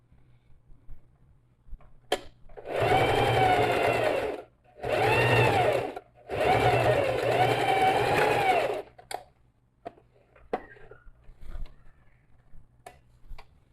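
A sewing machine topstitches a zippered sac-style toiletry pouch, running in three steady bursts of stitching separated by short pauses, with faint handling clicks before and after the runs.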